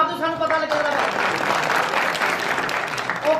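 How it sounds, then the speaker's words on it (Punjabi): An audience at a Pakistani Punjabi stage drama breaks into loud, sustained applause, dense clapping filling the whole stretch while a voice speaks over the start and end. "ਖੁੱਲ ਕੇ ਤਾੜੀ ਮਾਰ ਦਿਓ, ਸਾਨੂੰ ਪਤਾ ਲੱਗੇਗਾ।"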